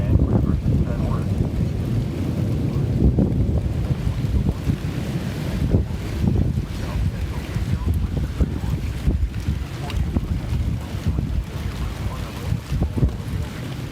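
Strong storm wind buffets the microphone in a steady, loud roar with gusty surges throughout, broadband rumble dominating the whole stretch, no voices clearly present.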